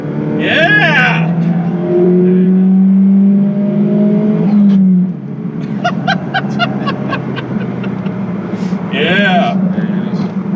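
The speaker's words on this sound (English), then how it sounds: "So we're gonna floor it, get on the gas." A 2008 Pontiac Solstice GXP at full throttle, its engine note climbing loud and close as it accelerates hard, with an upshift midway, under cheering and excited talk from people in the car.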